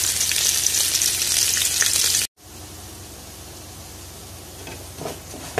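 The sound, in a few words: stir-frying pounded curry paste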